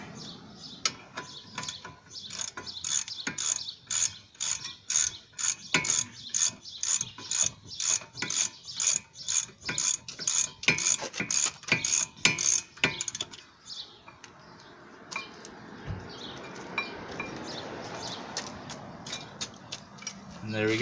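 A wrench ratchet clicks in a fast, even rhythm while loosening stubborn caliper bracket bolts on a 2007 Ford Fusion brake, up close, then gives way to softer handling noise and a faint murmur of background voice.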